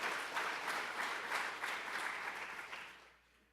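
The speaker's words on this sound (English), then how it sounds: "So big round of applause for Wink" Conference audience applause for the MC at a global supply chain summit, a full sustained round of clapping that holds steady before fading out near the end.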